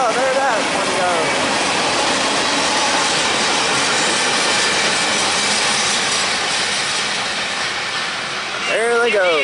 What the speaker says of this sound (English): Two trains meeting here in Folkestone, Georgia.